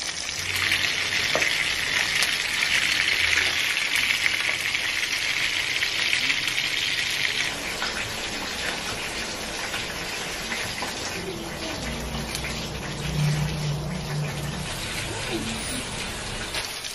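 Rava-coated fish frying in a pan, a loud close crackling sizzle that holds steady and then softens into lighter spitting with occasional scraping and handling noises; a voice talks briefly over it.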